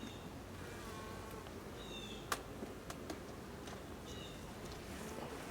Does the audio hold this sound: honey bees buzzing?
yes